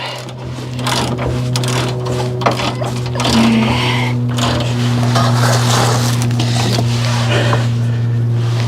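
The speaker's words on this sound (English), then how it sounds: "turn them with the ratchet and just putting a little pressure against them will work" A ratchet works the bolts on a 1971 Ford F350 during lowering, a busy, continuous mechanical chatter over a steady low hum, close and fairly loud for the whole stretch.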